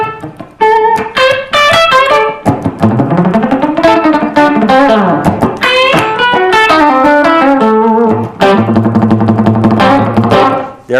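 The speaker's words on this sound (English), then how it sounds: "There I'm muting almost everything on the low 3 strings and playing everything else straight. With distortion, it's even more obvious." An electric guitar plays a fast picked line with heavy distortion, its low three strings palm-muted while the higher notes ring out, in a dense continuous run of quick notes.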